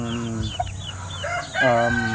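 Roosters crowing in a backyard where fighting cocks are raised, two long harmonic crows close by, the second louder, with faint clucking between them.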